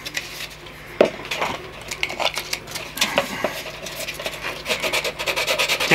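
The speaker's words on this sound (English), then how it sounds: "Gentle rub with the sandpaper" Sandpaper rubbed over plasticard during model building, with repeated close scratchy rasping strokes in an uneven rhythm and a sharp knock near the start, no voices.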